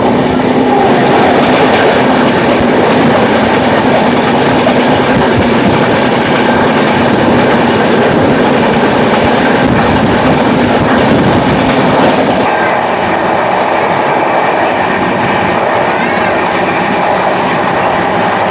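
The Dharti Aaba Superfast Express (22828, Ernakulam–Hatia) rumbles steadily past at close range, wheels clacking over the rails in a loud, continuous roar that eases slightly toward the end.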